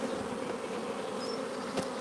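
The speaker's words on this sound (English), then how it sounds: "We don't want any of the bees swarming." Honeybees drone steadily around an open beehive during an inspection, a dense close buzz with no talking.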